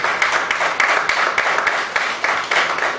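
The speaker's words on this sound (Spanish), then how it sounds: "vamos a dar un fuerte aplauso al Señor" Church congregation clapping together in a fast, steady rhythm, a dense patter of many hands at moderate loudness with no voices standing out.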